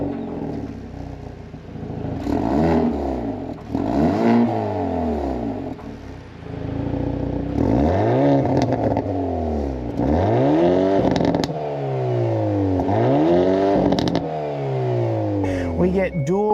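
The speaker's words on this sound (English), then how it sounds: "put my foot on the brake, and start the engine up" A 2024 Hyundai Elantra N fires up, and its engine is revved repeatedly in rising and falling sweeps, loud and close, with several sharp blips in a row and brief idle gaps between them.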